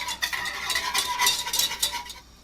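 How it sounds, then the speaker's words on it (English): A vanilla mixture for a strawberry chocolate truffle tart is whisked in a bowl, giving quick, steady scraping strokes against the sides, close and fairly loud, with no voices. "Just gonna whisk this around"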